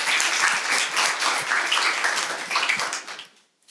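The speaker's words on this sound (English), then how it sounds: "I feel like that feels like an applause moment" An audience applauds after a talk on the art of post-riot Detroit, a dense, steady clapping from many hands that holds for about three seconds, then quickly thins out and stops.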